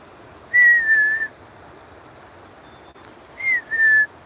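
A bird whistles two clear, loud notes a few seconds apart, each a short falling then level phrase, near a slippery rocky spot with quiet surroundings.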